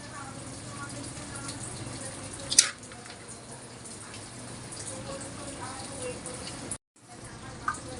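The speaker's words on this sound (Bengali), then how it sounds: "আর একটু গরম পানি দিয়ে দিলাম" Hot water is poured into a chicken biryani pot already holding carrots and raisins, giving a steady, close watery rush with a brief splash partway through, while a voice talks.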